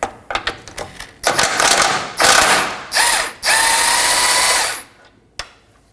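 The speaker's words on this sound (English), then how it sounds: "Support the top with a wrench and remove the bottom with your socket." A socket ratchet works a 19mm bolt and nut on a Toyota Corolla front control arm, giving several bursts of rapid clicking up close, with short pauses and a final sharp click.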